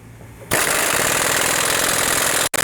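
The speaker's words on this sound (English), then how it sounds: "now we can tighten this lower bolt that we installed earlier" Impact wrench or power tool running steadily while tightening a lower bolt on a 6.5-inch lift kit for a 2020+ GM 2500 truck, a loud continuous buzzing burst that starts abruptly and cuts off briefly near the end.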